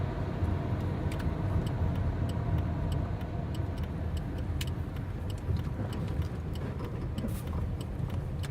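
A car rolls up to a bank and comes to a stop, its steady low road rumble and engine drone continuous and fairly even throughout, with faint ticking over it.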